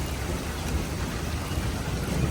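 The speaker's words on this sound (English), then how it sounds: "Getting some lightning and thunder, but nothing major." Steady rain with low rumbling thunder during a passing storm with lightning, a dense continuous wash of sound with no talk.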